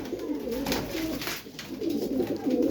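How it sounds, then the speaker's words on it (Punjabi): A blue pigeon coos among others at a Punjab pigeon sale, repeated low throaty rolls close by, swelling and dipping over a busy background. "ਨੀਲਾ ਕਬੂਤਰ ਬਈ ਖੱਟੀਆਂ ਅੱਖਾਂ ਦਾ"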